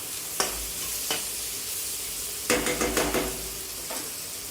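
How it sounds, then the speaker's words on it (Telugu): Paneer and cooked, cooled basmati rice are stir-fried together in a pan for paneer fried rice, with a steady sizzle broken by scraping, clacking spoon strokes, one near 0.4 s, another around 1.1 s and a busy cluster near 2.5–3.2 s. "మనం వండి చల్లార్చుకున్న బాస్మతి రైస్ మిక్స్ చేసుకోవాలి"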